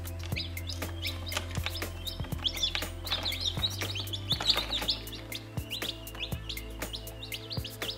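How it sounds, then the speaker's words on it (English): Baby chickens with a baby quail chick mixed in, inside a cheap Chinese egg incubator, chirping constantly in a dense overlapping chorus of high peeps, close and lively, over a steady low hum, no talking. "You can see we've got a little baby quail mixed in with all these chickens."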